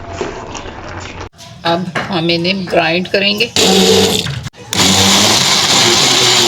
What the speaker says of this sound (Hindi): अब हम इन्हें ग्राइंड करेंगे।